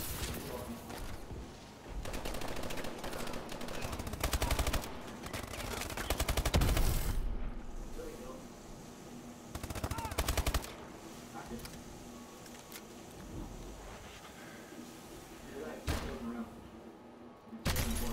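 Bursts of gunfire from a shooter video game, with loud automatic volleys and scattered single shots through the first half, then quieter stretches broken by further shots, with players talking over the action.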